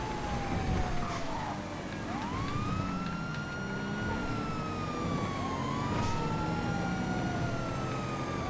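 A police siren on a vehicle in GTA FiveM wails continuously, rising and falling in long sweeps, loud and steady over engine noise.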